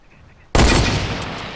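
A loud burst of gunfire from a Fortnite match erupts abruptly after half a second of near silence, then rings on as a dense, sustained blast that slowly fades.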